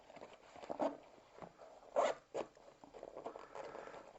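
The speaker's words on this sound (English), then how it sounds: "Just a zip at the top, the 2 zips." Zippers on a LIDL Crivit bike phone bag being worked, with a few short rasping pulls at close range, the sharpest bursts near the middle, over quiet handling noise.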